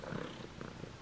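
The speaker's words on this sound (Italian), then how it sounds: "oggi abbiamo anche la colonna sonora delle fusa di gatta Stellina" A cat purrs steadily and close by, a soft rumbling drone with gentle rhythmic pulses, heard alone with no talking.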